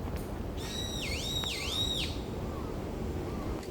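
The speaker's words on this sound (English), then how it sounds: "And you'd hear the birds." A bird in a quiet park gives one clear, looping whistled call lasting about a second and a half, fairly close, over a soft background hush, followed by faint quieter chirps.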